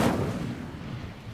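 The Incendio fire spell from the Hogwarts Legacy video game goes off as a single sharp, booming burst that fades into a rumbling tail over about a second.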